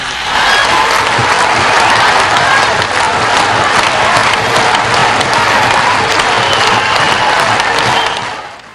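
A large audience bursts into loud, sustained applause with some cheering as a singer is welcomed onstage, the dense clapping holding steady for several seconds before tapering off.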